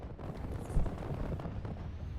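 Dense LRM missile barrage in MechWarrior Living Legends, a continuous rumbling wash of overlapping explosions with one heavier blast near the middle, steady and loud throughout with no voices.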